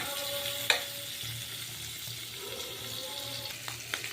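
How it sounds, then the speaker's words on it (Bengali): Shrimp fry in oil in a wok, giving a quiet, low sizzle with a sharp metallic clink near the start and a few faint knocks later. "এখন আমি চিংড়ি মাছটাকে ভেজে নিচ্ছি।"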